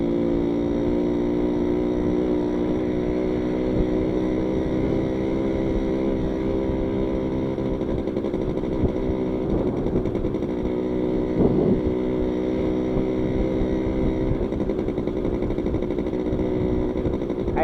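A steady motorcycle engine drones close by with a constant low hum, running continuously without pauses.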